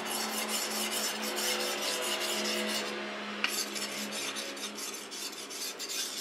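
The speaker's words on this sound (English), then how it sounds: "I clean that up with this fine, very extremely fine whetstone" A sashimi knife edge is drawn across a very fine whetstone in repeated rasping strokes, close and fairly quiet, with a brief pause partway through.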